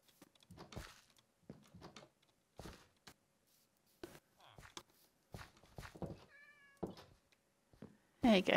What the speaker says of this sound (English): hey, cat, that's what I heard.